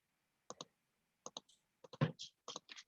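Keys on a computer keyboard click in short bursts of two or three quick taps separated by pauses, close and fairly quiet, with no speech.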